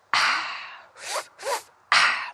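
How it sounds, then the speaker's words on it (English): Shamanic breathwork: loud, breathy mouth breaths, a long rushing inhale-exhale, two short sharp pulls in through the mouth, then another forceful breath out, close and without any talking. "we're going to be doing what is also known as like a bit of shamanic breathing"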